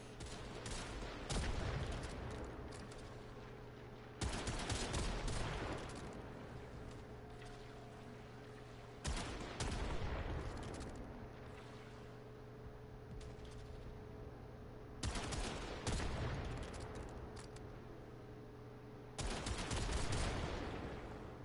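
Gunfire in the Warframe video game comes as repeated loud bursts of rapid shots separated by quieter gaps, set against a steady mechanical hum from ships.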